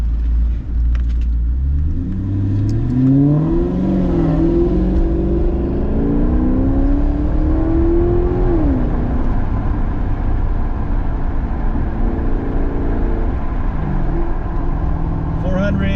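A Maserati car engine with 454 horsepower hums steadily in sport mode, its pitch climbing and dropping through aggressive downshifts, with a voice talking over the motor.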